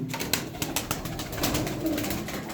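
A loft of Aksaray tumbler pigeons gives off a dense, steady cooing at close range, with occasional brief flutters of wings.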